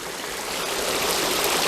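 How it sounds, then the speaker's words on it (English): Creek water rushes steadily over a small waterfall outdoors, a broad, close hiss of flowing water that swells slightly and continues alone without pause. "Look at that waterfall."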